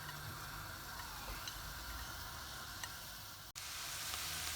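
Chicken frying in a pan of spiced masala for spicy chicken rolls, a steady broadband sizzle with faint ticking crackles throughout, broken by one brief dropout near the end before the hiss resumes.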